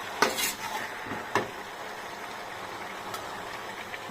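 A few scrapes of a utensil stirring Malabar spinach greens in a pan, spaced out over soft background hiss, fairly quiet with no voices.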